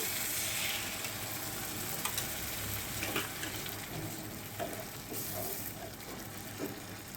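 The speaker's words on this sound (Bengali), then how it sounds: "এখন আমি একটু পেঁয়াজের যে পেস্টটা ছিল সেই জলটা আমি এখানে দিয়ে দিচ্ছি।" Onion paste water poured into a hot pan while cooking Hyderabadi egg curry, giving a steady, fairly loud sizzle and bubbling that runs unbroken through the whole stretch, with no one talking.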